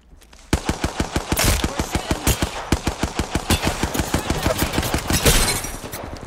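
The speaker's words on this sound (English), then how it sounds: "I'm gonna start shooting" Rapid automatic gunfire in Apex Legends, a steady loud burst of evenly spaced shots running nearly continuously for several seconds with only a brief stutter, close and alone with no talk.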